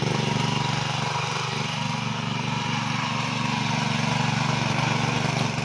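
A 7 hp mini power tiller engine runs steadily while tilling grassy ground around tree bases, its loud continuous drone holding close and even throughout with no talk.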